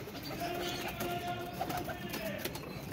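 Paired pigeons kept by a fancier, soft cooing and faint chirps over a busy outdoor background, moderately distant with occasional wing-like flutters.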